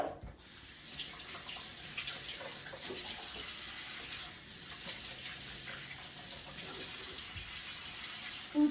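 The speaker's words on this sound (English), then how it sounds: "I gotta rinse these off because that's just the way I am." Tap water runs steadily over avocados being rinsed in a sink for guacamole, a continuous close splashing hiss that holds even throughout with small shifts as the fruit moves under the stream.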